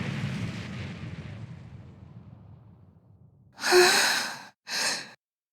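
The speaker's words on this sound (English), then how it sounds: "Sounds like screaming. And cannon fire." Cannon fire in the Ys X: Nordics video game: a distant rumbling roar fades over a few seconds, then two loud, sharp, bright blasts sound in quick succession near the end, with no speech.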